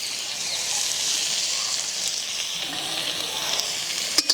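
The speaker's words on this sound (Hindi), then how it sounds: "अब इन्हें थोड़ा सा फ्राई कर लेते हैं प्याज को" Chopped onion frying in hot oil with cumin and asafoetida, giving a steady, close, bright sizzle throughout, with a couple of sharp utensil clicks near the end.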